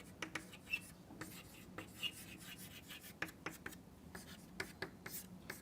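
Pen scratching on paper during a lecture on binomial and geometric models, a string of faint, quick strokes and taps with short pauses between, close and quiet, with no talking.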